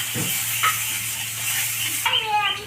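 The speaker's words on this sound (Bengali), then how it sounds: "মাই রান্না করছে এখন আর কালিয়া করছে" Kalia curry frying and being stirred in a pan, with a soft steady sizzle and occasional scraping stir strokes near at hand, plus faint background voices.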